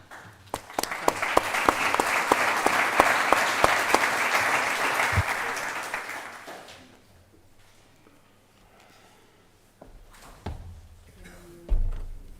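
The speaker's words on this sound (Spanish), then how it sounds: "Vamos a darle un aplauso a Gabriel Pardo de Intermas" An audience at the Balvert 2025 event applauds speaker Gabriel Pardo of Intermas in a loud, full burst that fades out after roughly six seconds, followed by quiet room noise and a few thumps and knocks.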